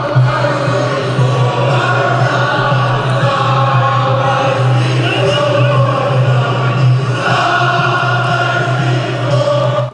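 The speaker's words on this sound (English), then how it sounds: "That is a stadium filled with people getting ready to watch some college football this weekend." A college football stadium filled with about 50,000 people before a game makes a dense, constant crowd roar with a low sustained drone and blended distant voices. It runs loud and unbroken throughout.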